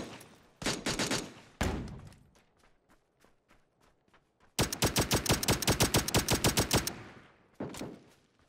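Rapid bursts of automatic gunfire in PUBG on Xbox Series X, several sustained volleys of close, loud shots separated by a stretch of scattered faint single reports.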